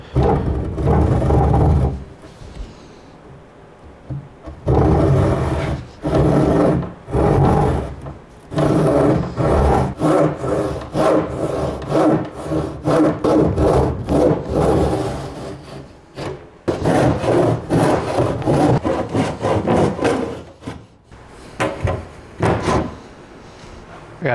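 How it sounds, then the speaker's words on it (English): Barn wood being sanded for a toy chest, a loud rough abrasive rasp in repeated bursts and strokes with brief pauses between passes. "Let's make it easier to sand off whatever excess I got."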